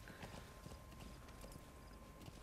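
Horse hooves in Metal Gear Solid V: The Phantom Pain, a steady, faint trotting patter of soft knocks under a hissy, noisy game background with a constant thin tone.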